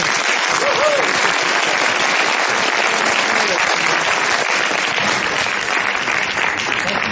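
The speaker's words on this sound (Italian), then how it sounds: "applausi scroscianti" Thunderous applause from an audience at a symposium on sustainable society, a dense, loud and continuous roar of clapping holding steady throughout, with a faint voice briefly audible beneath it.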